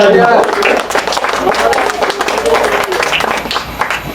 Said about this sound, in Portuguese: Bate palmas, bem alegre.